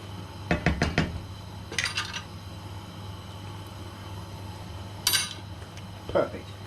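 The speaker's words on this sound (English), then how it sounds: "Now I'm just going to give it a quick stir, check it for seasoning" Metal spoon clinking against a pot while stirring rice and peas, a few separate bursts of scraping clatter over a steady low hum, close and moderately loud.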